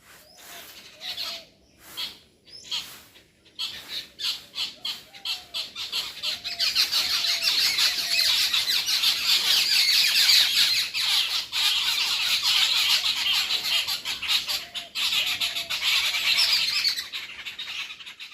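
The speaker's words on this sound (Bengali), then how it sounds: "পাখির কিচিরমিচির আওয়াজগুলো" Birds chirp and squawk close by in repeated sharp calls, at first spaced apart and then thickening into a steady, busy chorus that carries on to the end.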